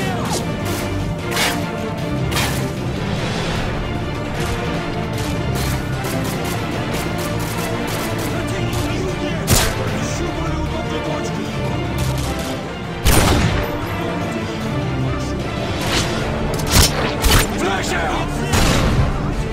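AGM missiles strike during a Spec Ops mission in a shooter game, with dense, continuous gunfire and repeated heavy impacts and booms punctuating the din, while radio voices talk over the chaos.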